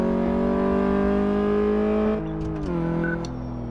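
A car engine in Car Mechanic Simulator 2014 hums in a steady tonal drone during a test drive, then drops in pitch as it shifts or eases off the throttle.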